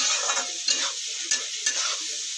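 Homemade chowmein sizzles in a pan on a low flame, a steady close hiss broken by a few light scraping stirs.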